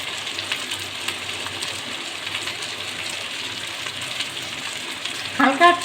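A paste of ginger, garlic and cumin fries in oil for a rohu fish curry with dumplings, giving a soft, steady sizzle at close range, then a short clatter right at the end.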